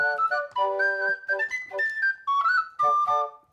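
Bright whistles played on the Piersonic wind instrument, a series of sustained and sliding melodic notes in short phrases with brief gaps, loud and close with no voices.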